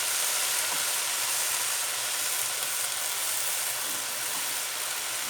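Spinach and onions sizzle loudly in a pan, a steady, close hiss of frying that continues evenly throughout.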